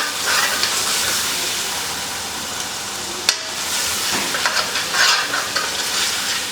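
Loud, continuous sizzling of biryani masala paste frying in hot oil, with occasional scraping and stirring sounds from a spoon in the pan.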